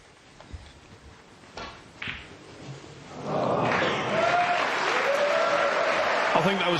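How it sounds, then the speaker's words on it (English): Burst of applause rising from a neighbouring table at the end of a snooker match during a World Championship round, quiet hall sounds giving way to sustained, fairly distant clapping and crowd noise. "He knew there was going to be a big burst of applause as the end of the match on the other table came."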